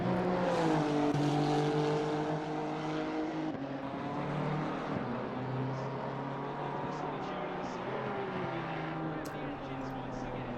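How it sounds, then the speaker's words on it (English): A Honda race car brakes hard at the Red Bull Ring during a multiclass race, its engine note falling in pitch as it turns into a right-hander. The engine drone stays steady and moderately distant, under a commentator's voice. "Hard on the brakes right around the 100-meter mark for the Honda, turning it very quickly into the right-hander"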